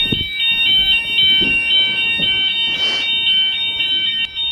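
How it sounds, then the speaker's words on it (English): A hotel fire alarm in West Wycombe, UK, beeps continuously with a shrill, steady high-pitched tone, loud and close, with brief faint voices and movement underneath. "Just got a fire alarm going off."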